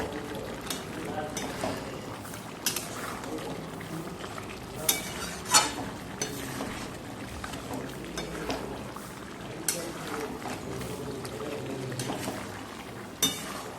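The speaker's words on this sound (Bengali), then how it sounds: "একটুখানি আর একটু জল দিয়ে মাংসটা ভালো করে কষিয়ে নিচ্ছি আবার" Mutton is sautéed in masala with a little water added and stirred, producing a low steady sizzle and bubbling with intermittent knocks and scrapes of a spoon on the pot.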